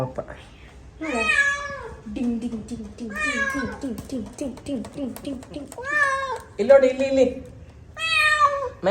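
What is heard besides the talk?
kitten meowing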